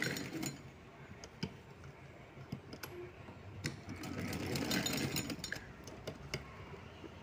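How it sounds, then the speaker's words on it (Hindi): A sewing machine stitches ribbon onto a small deity's dress, running in a steady whirring stream with a few short pauses and faint clinks, close and moderately loud with no voices. "तो ये मैंने इस पर इस तरह से सिलाई लगा दी है"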